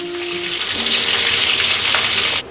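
Butter sizzles loudly in a hot pan with oil for a pea and tomato curry, a dense close frying hiss that holds steady and then drops off abruptly at the end.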